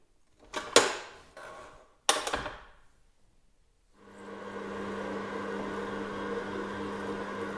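A few sharp clunks and knocks come first, then a kneading machine starts up and mixes rye sourdough dough with a steady, moderately loud motor hum that continues to the end.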